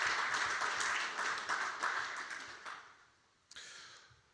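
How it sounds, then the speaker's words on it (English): An audience at a Namibian biomass industry conference and expo gives a round of applause, with individual claps audible in a moderately distant crowd that fades away over a few seconds before a brief, separate sound near the end. "I just want us to give a warm round of applause to N-BiG"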